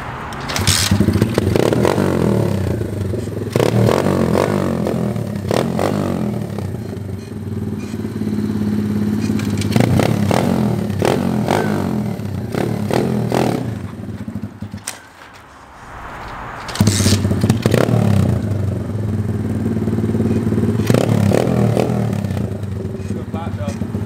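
SSR 125cc pit bike engine revving repeatedly during wheelie practice, a loud, steady buzzing drone with rises and a short dip partway through.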